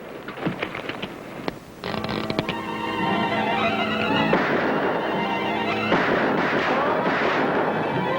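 Rapid bursts of gunfire from a spinning gun in a 1950s Western setting, dense rattling shots running almost continuously for several seconds after a few scattered opening bangs.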